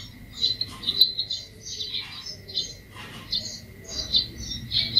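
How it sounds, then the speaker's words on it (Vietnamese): A bird on the ground outside gives quick, high chirps in irregular bursts over a low steady hum, with a thin constant tone running underneath. "Ừ, con chim ở đấy, dưới đất các này."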